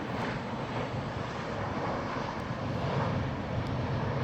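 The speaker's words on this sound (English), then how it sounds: "And there she is, an airplane coming in." A steady, broad roar of an airplane engine droning overhead as it comes in to land, with some wind buffeting the microphone and no talking.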